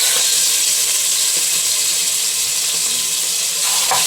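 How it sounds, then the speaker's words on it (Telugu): Marinated chicken for biryani sizzles steadily in hot oil, a loud constant hiss with faint clinks near the end. "ఇక ఆయిల్ హీట్ అయ్యాక చికెన్ మ్యారినేట్ చేసుకున్న చికెన్ ఉంది కదా, అదంతా వేసేస్తున్నాం అన్నమాట."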